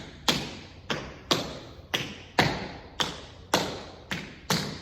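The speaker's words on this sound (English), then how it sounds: "Flaps take a while to get. So pause, practice them." Tap shoes striking a hard floor in a beginner teen and adult tap class, eight crisp flap steps repeating in a slow, even rhythm, each a sharp double-edged click with a short ring, close and alone.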